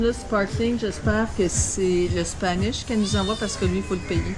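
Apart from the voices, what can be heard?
cat meowing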